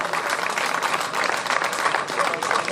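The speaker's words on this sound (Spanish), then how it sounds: "Forte aplauso para Pablo Rey" Steady crowd applause at a hill-climb race awards ceremony in Vilar de Barrio, filling the whole stretch, dense and continuous clapping without pauses, fairly loud and even throughout.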